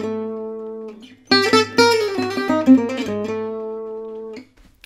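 A guitar plays the opening phrase of a gypsy jazz lick: a held chord, then a quick run of plucked notes before ringing out, close and clear with no talking.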